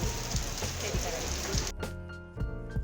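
Heavy rain pours steadily on surfaces near a temple and hill trek route, a dense close hiss that suddenly drops away partway through, with a voice talking over it.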